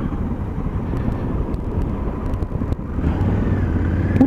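A Honda Africa Twin adventure motorcycle rides along past a campground, giving a steady low engine drone under heavy wind rush, close and loud throughout.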